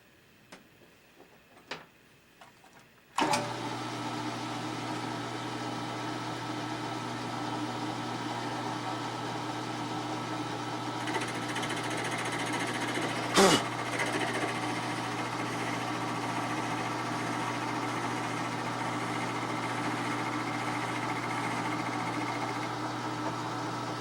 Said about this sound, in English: Now I'm going to mill a slot with a 1/2 inch wide mill, centered on the center line of the casting.